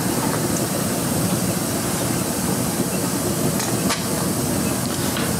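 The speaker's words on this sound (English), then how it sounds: "See the remnants of the soda cooking off on the lid there." LaCroix soda cooking off on a hot lid, a loud, steady hiss and sizzle that runs unbroken throughout, close and with no speech.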